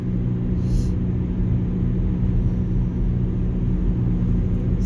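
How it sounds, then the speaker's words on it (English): A 2005 Volvo V50 cruises at 60 mph, a steady, even low road and engine rumble with constant wind and tyre noise from inside the cabin, without any talking. "We're cruising at 60 miles an hour."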